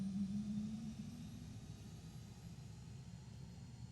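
Cirrus Vision Jet engine spooling up during start in Microsoft Flight Simulator 2020, a steady low rumbling whine that swells early and then settles into a continuous drone.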